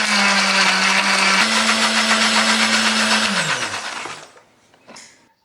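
A blender grinding spice paste with a little water whirs loudly and steadily for about four seconds, its motor pitch dropping slightly midway, then winds down and stops, followed by a brief clatter.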